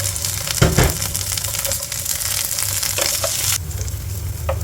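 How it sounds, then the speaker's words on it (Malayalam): Chopped onion, ginger and garlic sizzle in hot coconut oil in a pan for a brinjal curry, a steady close frying hiss broken by a few stirring scrapes, with no talking. "ഇനി നമ്മൾ ഈ ഉള്ളിയും എന്താ പറയുക ഇഞ്ചിയും വെളുത്തുള്ളി എടുത്ത് വെച്ചാൽ അതൊന്ന് വഴറ്റിയെടുക്കാം"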